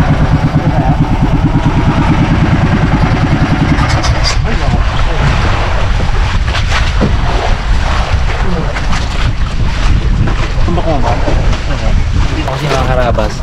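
A fishing boat's engine, one that broke down on an earlier trip, runs at sea at night, a steady low drone under wind and water noise with faint muffled voices.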